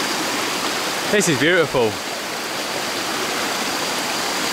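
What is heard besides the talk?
river stream flowing at waterfall resort in Thailand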